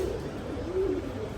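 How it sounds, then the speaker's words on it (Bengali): Afsan Makhra Bagha khaki pigeons cooing faintly, a low soft coo rising briefly midway over a steady background hum, with no speech. "বাঘা খাকি কবুতর দেখাই"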